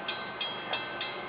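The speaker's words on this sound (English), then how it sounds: "It's a daily steel train from Middletown." A passing freight steel train running daily from Middletown, Ohio, its railcar wheels clacking over rail joints in a steady, evenly spaced rhythm, close and fairly loud, with no voices.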